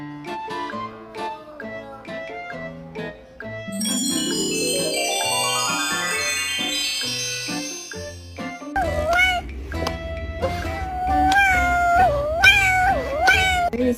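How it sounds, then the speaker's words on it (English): A small kitten meows several times in short, rising calls, loudest toward the end, over a busy background of tonal, music-like sounds. "Look at this little kitten."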